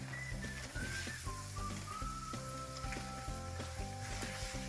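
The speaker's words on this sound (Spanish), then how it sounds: "Lo vamos a mover bien y vamos a cocinar la harina." Flour cooks with sautéed onion and leek in a pan, giving off a soft, steady sizzle with light stirring, faint and continuous, under a melodic whistled tune.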